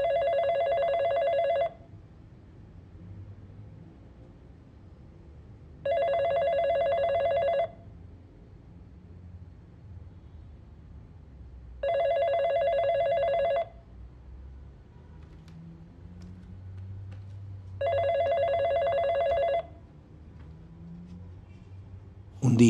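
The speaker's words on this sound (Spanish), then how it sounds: "Un día sonó el teléfono." A telephone rings in four evenly spaced bursts of electronic trilling, each lasting about two seconds, separated by quiet pauses over a faint low background.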